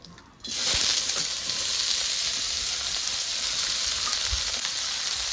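Cabbage drops into hot oil and bursts into a loud, steady sizzle of frying after a brief quiet start, with a few faint stirring knocks underneath.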